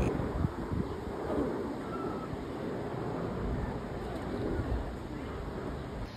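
Steady, loud wind roars and buffets against the microphone outdoors at the Calgary Zoo, a continuous rumbling hiss that fills the whole stretch under overcast, drizzly skies.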